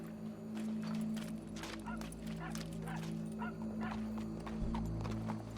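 Hooves clopping alongside yapping dog-like calls over a constant low drone, with some busy game-style sound effects, in Red Dead Redemption II.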